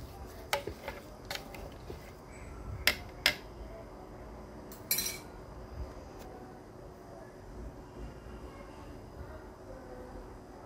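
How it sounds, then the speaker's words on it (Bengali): Sugar being stirred into lemon mint sharbat, a few sharp clinks of a spoon against a glass or jug in the first half, then quieter faint rustle with low background hum. "একটু নেড়ে দিব।"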